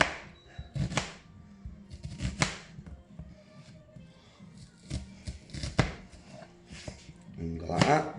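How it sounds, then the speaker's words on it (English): A knife dices a white onion on a cutting board in quick, uneven bursts of sharp taps, close up, with a person talking at times. "So, get your white onion. Get chopping it, lads and lasses."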